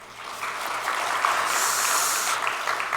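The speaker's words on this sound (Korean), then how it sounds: "환영과 축복의 박수하겠습니다" Steady, even applause from a church congregation at a Sunday service, a welcoming round of clapping lasting throughout at moderate volume.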